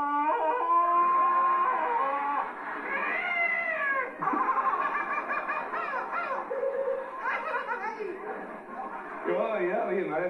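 A voice imitating a Tarzan yell and jungle animal calls on a 1990s Spanish TV talent show, a long warbling cry followed by varied yelps, squawks and cat-like wails in quick succession, close and clear.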